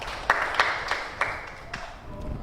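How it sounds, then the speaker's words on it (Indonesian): In a classroom, a few students give sparse, faint handclaps, about five distinct claps spaced roughly evenly over two seconds against a quiet room. "Tepuk tangan juga untuk Yosafa"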